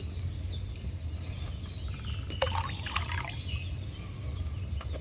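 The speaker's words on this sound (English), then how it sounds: "So I gotta add wine to it." Wine is poured from a pitcher into a cauldron in the video game Kingdom Come Deliverance 2, making a soft trickling, splashing stream that swells briefly in the middle over a low background hum.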